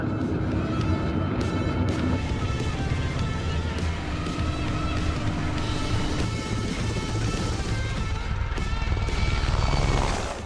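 Mi-8 helicopter flying at extremely low altitude, a loud, steady broadband roar of rotor and engine that fills the whole clip without pause, close and continuous.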